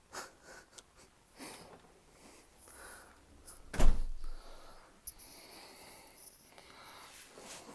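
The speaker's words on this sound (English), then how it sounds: "I'm just opening the door." A house front door is opened at night after a bike ride: a scrape and a loud thump of the handle and frame, with faint clicks and rustles around it and no talk.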